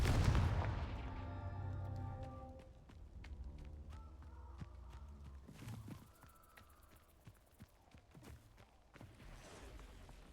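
A Confringo fire spell in the Hogwarts Legacy video game bursts with a loud booming blast that rumbles and fades over a few seconds, followed by scattered softer impacts and clicks from the game.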